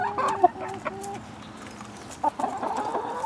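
Chickens cluck near a canoe outing, with several short overlapping calls and brief squawks from a close flock.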